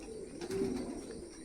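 A tumbler pigeon, one of a rolling breed, gives a single short, low coo, faint and brief against quiet background hiss.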